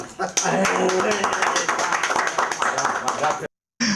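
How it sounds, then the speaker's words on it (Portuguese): Audience applause at a live cultural arts program, steady dense clapping mixed with voices and chatter, ending with a brief drop to silence before the crowd noise returns. "Aplausos, né?"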